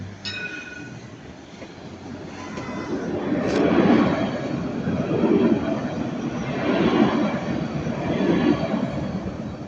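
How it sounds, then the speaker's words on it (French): A tram passes at Magnan, a low rumble that swells and rolls with rhythmic wheel noise for several seconds, fairly close and loud, with a faint squeal near the start. "Il y a encore un tram donc je laisse."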